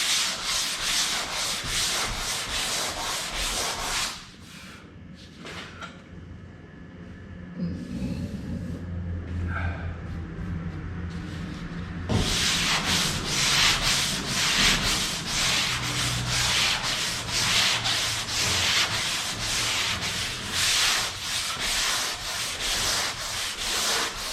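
Hand sanding of primer guide coat on a car quarter panel, steady rhythmic rasping back-and-forth strokes, close and loud, briefly pausing midway with a quieter rumble before the strokes resume; no talking.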